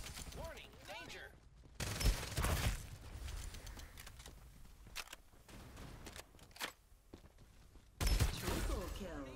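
Gunfire in the video game Farlight 84, with heavy bursts of shots near the start and again near the end and scattered sharp reports between, mixed with game voice callouts.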